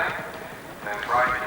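A racehorse gallops with rapid, drumming hoofbeats in the 1983 Tote Double Chase steeplechase, under jockey John Frankham, the thudding pace heard beneath a race commentator talking continuously.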